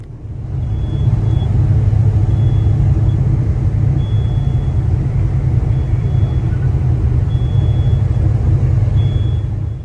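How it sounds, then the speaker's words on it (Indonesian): A Mercedes 1525 bus engine labors uphill at Pandaan, a loud steady low rumble heard from inside the bus, with a faint repeating high beep at regular intervals. "Karena ini memakai Mercy 1525 jadi nanjak di Pandaan ini ya, luar biasa."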